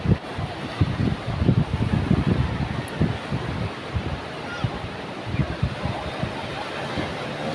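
Sea water slaps and splashes against an enduro motorcycle ridden through the surf, a steady rough wash of crashing water and wind buffeting the microphone throughout, loud and close.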